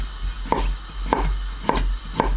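A knife chops through pickled gherkins on a board in four sharp, evenly spaced strikes about half a second apart, close and clear over a low steady hum.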